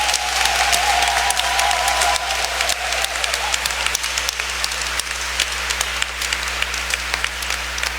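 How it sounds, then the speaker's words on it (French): A church congregation applauding at a diocesan Pentecost gathering, dense sustained clapping filling the space for the whole stretch, with a brief sung or voiced tone near the start. "Et nous acclamons très fortement cette parole de l'Évangile."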